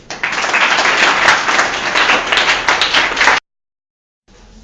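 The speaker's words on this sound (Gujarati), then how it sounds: "તાળી પાડો" Applause for a quiz champion at a KBC-style school quiz, a dense burst of many hands clapping for over three seconds that stops abruptly, followed by a short silence.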